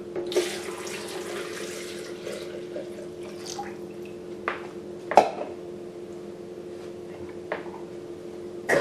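Four cups of cold water poured into an electric blender over chunks of coconut meat for coconut milk: a soft, close splashing pour at the start, then scattered drips and small knocks over a faint steady hum, with no voices.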